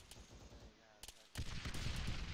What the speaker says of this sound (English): There it is, that's the gun.